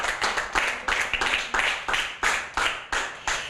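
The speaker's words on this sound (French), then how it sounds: "On applaudit encore une fois Olivia." A small audience applauds a young girl after she presents a book, about a dozen brisk, evenly spaced clusters of claps, close and fairly loud, with no voices.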